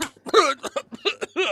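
A performer on a live improv comedy stage coughs and hacks in a rapid series of harsh, throaty bursts, close and loud.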